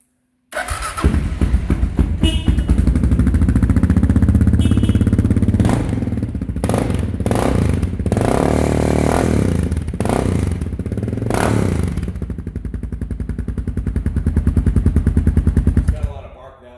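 Running dirt bike engine in a shop, one of a Kawasaki KLR650, 2019 Honda XR650L or Honda CR500R, close and loud at a steady idle with blips of throttle, clatter and thuds; talk is heard over it.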